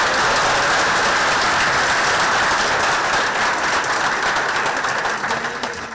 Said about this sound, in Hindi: हाँ ताली बजाओ भाई